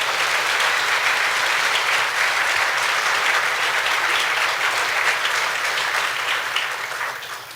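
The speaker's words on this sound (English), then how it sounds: "So please give a warm round of applause to all of those other people." A banquet audience at a Nobel Conference round table gives a long, warm round of applause for support staff, a full, steady wash of many clapping hands that holds evenly and then tapers off at the end.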